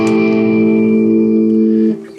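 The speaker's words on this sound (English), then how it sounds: "the reverb, in conjunction with this gain, to me is really pleasing" Electric guitar on a Mosrite USA 65-SB, driven through an MXR Micro Amp and a CAE Boost with gain and reverb, rings out as a loud sustained chord that fades off at the end.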